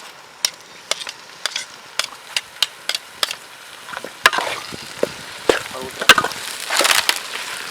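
Onions sauté in a pan with ginger garlic paste for a rabbit curry, a spoon tapping the pan in a regular rhythm before a louder, crackling sizzle and stirring scrapes take over.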